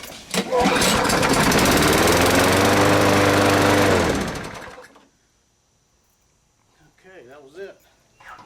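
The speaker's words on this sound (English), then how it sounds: "Now the mower runs." A push lawn mower, just fitted with a new ignition coil, starts up loudly and runs steadily for about four seconds before cutting out, followed by quiet and a few faint sounds.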